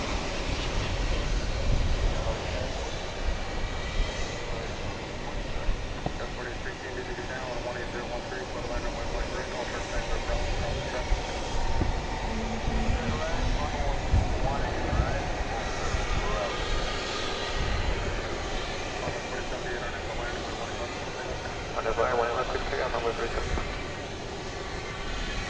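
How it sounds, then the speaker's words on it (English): A Spirit Airlines jet arrives at DFW Airport, a steady distant engine roar that holds beneath someone talking throughout. "Here comes the Spirit flight we talked about."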